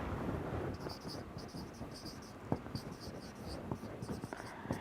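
Chalk or marker scratching and tapping on a board during a genetics lecture, faint irregular strokes and taps over a hissy room background.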